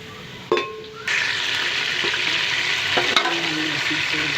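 Onions and cumin sizzle steadily in hot oil in a tempering pan, a loud continuous frying hiss that swells after a brief stir, with a couple of sharp clinks and scrapes from stirring.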